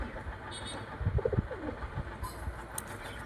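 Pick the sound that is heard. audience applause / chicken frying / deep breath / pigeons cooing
pigeons cooing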